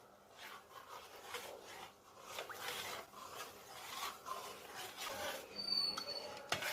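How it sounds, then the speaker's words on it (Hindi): A spoon stirs milk for custard in a pot, making faint, continuous scraping and rubbing strokes that come and go in an uneven rhythm. "दूध के अंदर चम्मच को चलाते जाना है"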